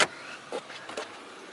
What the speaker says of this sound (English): Let's pop the hood.